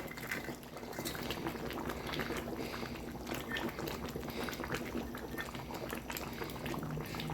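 Thai coconut-milk curry with tilapia, winter melon and pea eggplants boiling in a pot, a dense, steady bubbling and simmering that carries on without a break, close up and fairly loud.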